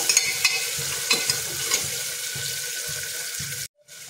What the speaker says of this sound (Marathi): टोमॅटो सुद्धा व्यवस्थित मऊ होईपर्यंत परतायचं आपल्याला।